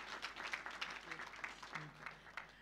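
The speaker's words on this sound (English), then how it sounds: "Let's give her another round of applause" Audience applause at a university graduation ceremony in Nairobi, a steady patter of many hands clapping through the hall, moderately distant and fairly faint with a voice faintly audible.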